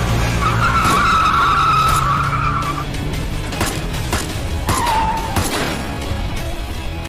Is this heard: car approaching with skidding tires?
yes